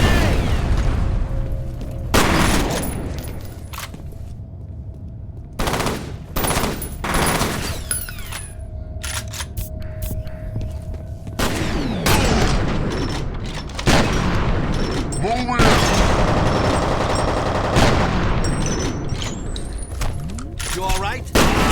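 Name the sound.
grenade explosion and gunfire in a video game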